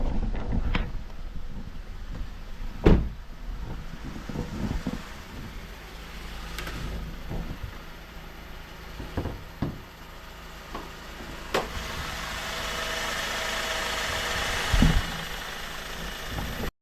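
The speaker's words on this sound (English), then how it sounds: "seems to be idling just fine now with that duct replaced" A 2008 Honda Accord engine idles quietly and steadily in the background after a cracked intake duct was replaced, with a few sharp clicks and knocks scattered throughout.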